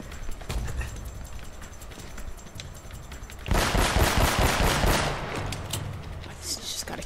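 Gunfire in the video game Uncharted: Drake's Fortune, in the monastery level, rattles in steady bursts that grow louder and denser partway through, over continuous game sound with a voice talking.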